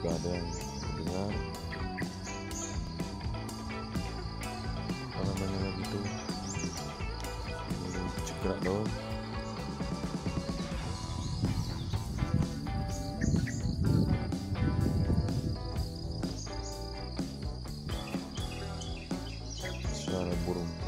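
Birds sing and chirp repeatedly in the morning over a constant insect-like buzz, with varied calls rising and falling at moderate distance throughout.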